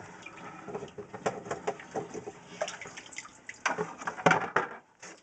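Water trickles and splashes as it drains out of a large fish tank during an aquarium move, an uneven run of close gurgles and drips that grows busier toward the end.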